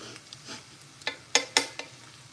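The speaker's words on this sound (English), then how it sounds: "We have tofu sauteing with a fresh ingredient today" Tofu sautéing with fresh lemongrass in a pan: soft sizzling under a few sharp scraping, stirring clicks against the pan, close and fairly quiet.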